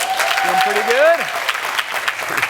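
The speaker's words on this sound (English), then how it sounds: "Thank you for clapping." Applause from a live holiday comedy show audience, a steady wash of clapping with brief crowd noise and a whooping or whistling cheer near the start.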